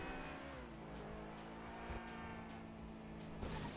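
A car engine drones and revs steadily while driving through traffic on a Dubai map in Grand Theft Auto V, with shifting pitch and a few brief tire and impact noises, all under a constant game soundtrack.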